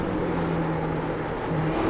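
In a racing video game, a car engine drones at a steady, loud pitch, then briefly breaks off and resumes as the driver downshifts to third gear approaching a corner.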